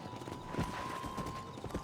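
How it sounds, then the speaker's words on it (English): Horse hooves clip-clop in the Red Dead Redemption video game, a steady rhythmic patter of hoofbeats close by under a constant game tone and ambient sound, with a faint whinny. "Control that horse"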